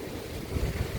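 Low, rumbling surf washes in at a beach on Boracay with buffeting wind noise, a couple of heavier wave surges swelling near the end; no voices.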